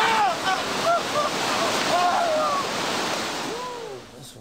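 A river surfing wave in Oregon rushes steadily as broadband water roar, with thin whistling tones drifting over it; no voices.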